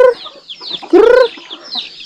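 Close, loud clucking from farm chickens being fed, with short bursts and one longer squawking call in the middle, separated by brief quiet gaps.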